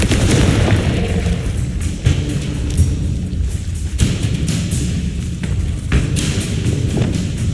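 Confringo fire-blast spell in Hogwarts Legacy, heavy booming thuds over a dense rumbling battle din, with several impacts about every second or two.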